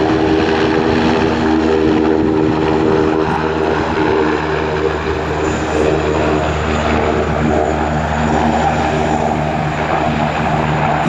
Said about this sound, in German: Helicopter on our flight display program, of course, the NH-90.